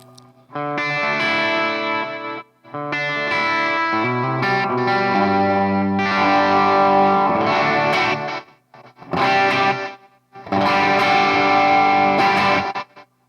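Distorted electric guitar phrases through a vintage delay effect pedal preset, repeating echoes trailing each burst of chords, separated by short pauses.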